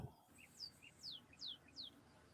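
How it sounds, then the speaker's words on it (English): Small birds chirp outside a slightly open window: four quick, high, downward-sweeping tweets spaced evenly about half a second apart, faint and distant over a quiet indoor background. "I hear chirping"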